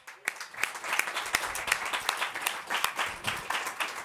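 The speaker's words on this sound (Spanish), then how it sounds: "Un aplauso para Paco Caballero." An audience at a Campus Party event applauds Paco Caballero, with steady dense clapping from many hands that holds at an even level throughout, with no talking over it.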